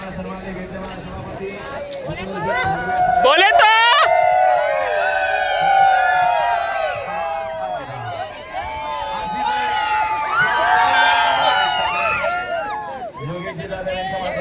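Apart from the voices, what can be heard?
crowd at a Thar bullock cart race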